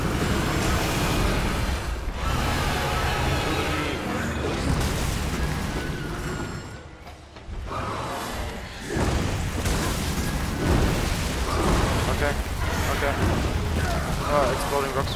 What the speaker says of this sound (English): Exploding rocks from the sky.